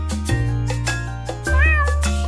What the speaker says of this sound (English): The cat on the fence says, meow, meow, meow.